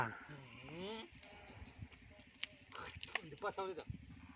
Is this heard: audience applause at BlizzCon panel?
no